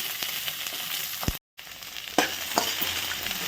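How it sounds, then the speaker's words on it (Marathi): Onion frying in a little oil in a kadhai, a close, continuous sizzle with a few stirring scrapes and a brief gap of silence in the middle, with no voices. "इथं तेल घेतलं आहे कढईत थोड्या तेलात फ्राय करायचं तर आधी कांदा फ्राय करू"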